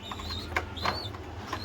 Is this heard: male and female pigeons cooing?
yes